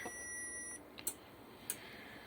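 A faulty 1500 W power inverter gives a thin steady high-pitched tone that cuts off, followed by two brief sharp chirps as it tries to start, faint and close with no voices.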